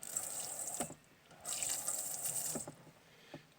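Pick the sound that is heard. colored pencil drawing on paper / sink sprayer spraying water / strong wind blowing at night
sink sprayer spraying water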